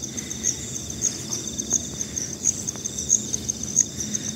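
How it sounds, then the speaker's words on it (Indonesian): Crickets chirp in a steady, high-pitched pulsing trill over a low outdoor rumble beside rice fields, continuous and fairly close. "Ini bisa kita dengar suara jangkrik."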